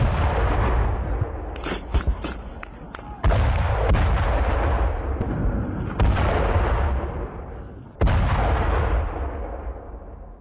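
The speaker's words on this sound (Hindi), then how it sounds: "यूक्रेनी ठिकानों पर एक के बाद एक कई धमाके हुए।" Explosions from Russian missile strikes on Ukrainian positions, several heavy booms in succession, each sharp blast trailing off into long rumbling decay, loud and layered, with faint voices underneath.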